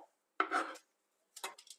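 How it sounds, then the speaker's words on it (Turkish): Chopped onions are tossed onto carrots in a baking dish, giving two brief, close clattering drops of vegetable pieces landing in the dish, separated by a short silence. "Doğradıklarımı da aynı şekilde havuçlarımın üzerine atıyorum."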